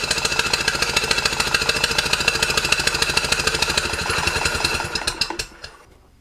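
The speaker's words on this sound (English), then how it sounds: "Now we've got the engine sort of running and the main oil pump working and supplying oil" A Stuart steam engine runs with its main oil pump working, giving a fast, even mechanical chuffing and knocking beat that holds steady, then slows and fades out to quiet near the end.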